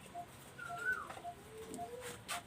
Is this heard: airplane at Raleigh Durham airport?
no